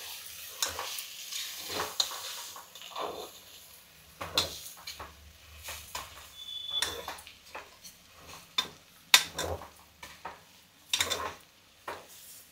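A spoon stirring soya granules with masala paste in a frying pan, repeated scraping and clinking strokes over a soft sizzle, close and uneven in rhythm, with no speech.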